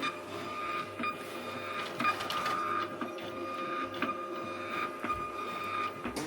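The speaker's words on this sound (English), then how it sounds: "Literally printing money." A printer runs pages through, giving a steady mechanical whir with regular clicks and feed clunks, close and continuous with no talking.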